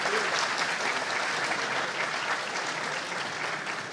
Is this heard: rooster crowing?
no